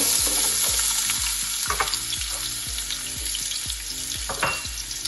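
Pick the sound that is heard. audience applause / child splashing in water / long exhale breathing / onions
onions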